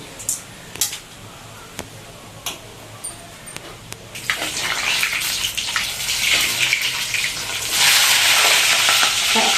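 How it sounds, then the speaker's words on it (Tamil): Mustard seeds and chana dal fry in hot oil, a close crackling sizzle with scattered pops early on that swells into a loud, dense hiss as the dal goes in. "கடுகு நல்லா பொறிஞ்ச உடனே கடலை பருப்பு சேர்த்துக்கலாம்"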